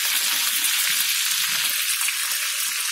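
Chicken legs fry in a pan, a loud, close, continuous hiss and sizzle of hot oil with no voices over it.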